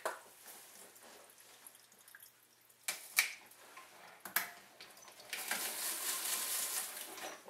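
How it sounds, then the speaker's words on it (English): Water dripping and splashing as a freshly washed apple is shaken, heard as close, scattered drips and clicks that give way to a denser watery rustle. "wash the apple, give it a good shake"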